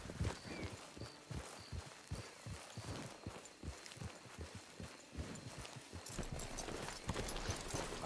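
A horse in Red Dead Redemption 2 walks with a steady clip-clop of hooves, moderately close and fairly quiet, the rhythm holding evenly throughout.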